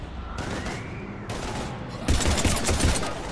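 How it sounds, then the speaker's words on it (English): Sustained gunfire from the sci-fi shooter game Mass Effect 3, with bursts of rapid shots and a whooshing sweep early on, growing louder and denser toward the end as a firefight intensifies. "we're taking heavy fire"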